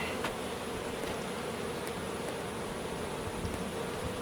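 Honey bees buzzing around hive frames during a honey harvest, a continuous close swarm hum with individual bees droning past, no talk.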